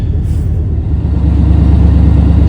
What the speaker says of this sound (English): let's find out if the truck starts